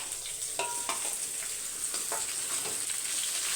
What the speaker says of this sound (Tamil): இப்போ வெங்காயம் பாருங்கள் நல்லா பாதி வதங்கிடுச்சு